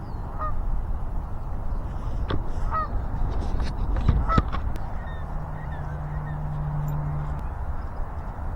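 Geese honking in scattered calls by a lakeshore, several clear honks rising over steady outdoor ambience and low rumble, with a sustained low tone near the end.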